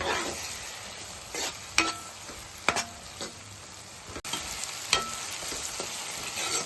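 Tomato and onion fry in a pan for a cauliflower curry, a steady sizzle broken by several sharp scrapes and clatters of stirring, close and with no talking.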